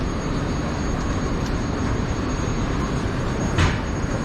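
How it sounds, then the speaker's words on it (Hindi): A New York City subway train gives a continuous broadband rumble and rush, loud and close, with a few faint squeaks or clanks standing out briefly. "ये ट्रेन थी"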